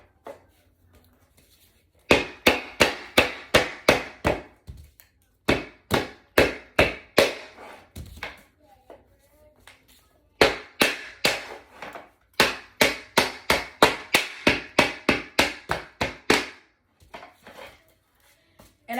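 Laminate floor plank being tapped into place with a tapping block, sharp rhythmic knocks in fast runs of about ten blows, separated by short pauses, close and loud with no talk.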